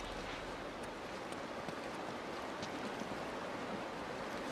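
A constant, full rush of falling water roars evenly throughout, broadband and unbroken, with no voices; a waterfall in the video game Uncharted: Drake's Fortune.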